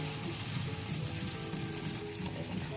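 Patishapta pitha crepes with kheer filling fry in a pan, giving a soft, steady sizzle that runs evenly through the short stretch without any talk.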